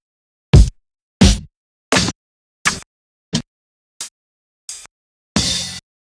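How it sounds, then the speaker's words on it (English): Drum samples, uncleanly trimmed, play one at a time: eight punchy, separate hits with silence between them, the last one a longer, noisier crash. "One reason for that are the drum samples. This is what we're working with."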